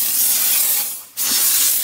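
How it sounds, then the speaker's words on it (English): A steam cleaner jets a loud, close, broadband hiss while steaming the washrooms of a motor home, cutting out briefly for a split second before resuming at full strength. "And now we're steaming the washrooms."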